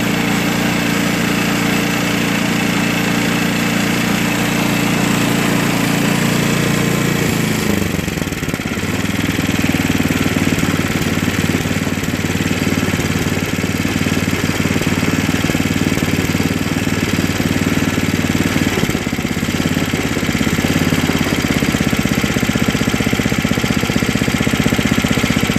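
A 5.5 HP MTD two-stage snow blower engine runs steadily on fresh oil, a smooth continuous mid-pitched drone that shifts slightly in tone partway through and holds loud and close for the whole stretch.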